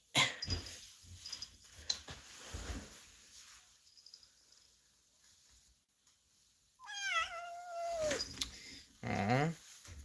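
A long-clawed pet cat named Chucky gives a drawn-out, falling meow followed by a shorter cry, heard indoors after quiet rustling and faint background noise.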